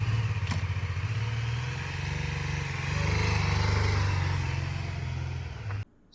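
A BMW F 450 GS motorcycle rides along roads in Goa, its engine droning steadily and loudly up close with some wind rush, then cutting out abruptly at the end.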